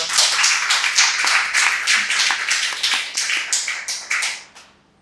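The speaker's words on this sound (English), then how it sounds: "Can we please have a round of applause for her?" A crowd claps steadily for several seconds, a dense rattle of hands that thins out and stops.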